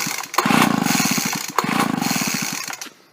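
Two hard pulls on a leaf blower's starter cord set the small engine chugging in quick rhythmic bursts, each pull lasting about a second before trailing off.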